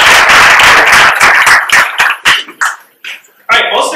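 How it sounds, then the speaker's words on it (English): Audience at a bike-share data awards event clapping for Divvy and the city, a loud dense burst of applause that breaks into scattered claps and dies away before a voice begins speaking. "quick round of applause for Divvy and the city."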